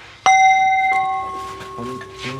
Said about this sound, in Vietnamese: Cái chuông này nó sẽ đi theo cái kiểu mà giống như vậy nè. Tiếng vang.